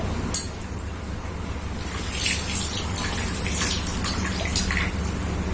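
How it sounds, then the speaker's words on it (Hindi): Lentils being rinsed in water at a kitchen tap: a steady gush of running water with swishing and splashing that swells after the first couple of seconds, close by, with no talking. "तो इसको 2-3 पानी से वैसे ही धुल लेंगे"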